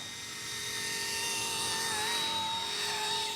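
Small ready-to-fly RC Era C187 model of an EC135 helicopter flying outdoors, a steady high-pitched rotor and motor whine with tonal lines that drift slightly in pitch as it turns, continuous and fairly close with no talking.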